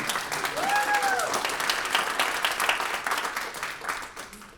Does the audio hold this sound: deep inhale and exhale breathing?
no